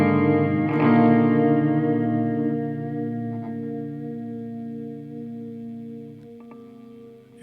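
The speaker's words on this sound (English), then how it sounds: "you thicken up your sound by a ton because you have that second sound coming right after your initial sound" Guitar run through an Empty Head Effects modulation pedal set to double the signal, a sustained chord swelling with thick, chorus-like layered tone that slowly fades, alone without talk.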